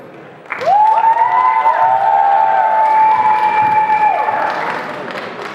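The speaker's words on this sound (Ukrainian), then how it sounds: "Ваші оплески конкурсації під номером 3." Audience applause and cheering for contestant number 3 at the Miss ХПК college pageant, a steady, loud wash of clapping rising suddenly and holding for several seconds, with a sustained whistle-like tone riding over it before fading slightly.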